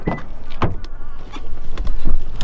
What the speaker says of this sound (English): I could actually lock the car just by doing this, and then it locks it